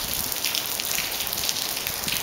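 Steady rain pours on a Sunday evening in the Bay Area during the first significant rainstorm of the season, a continuous dense hiss and patter of drops on surfaces with no voices.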